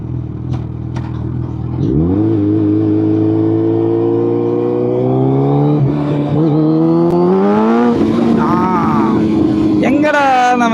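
A 1300cc Suzuki Hayabusa motorcycle idles briefly, then its engine roars up through rising revs and gear changes, growing louder and higher in pitch across about ten seconds, heard close from the rider's position.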